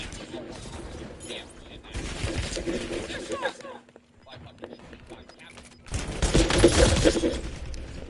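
Video game weapons fire in dense bursts of rapid gunshots, with a quieter gap midway before a louder, heavier volley, while a voice talks intermittently.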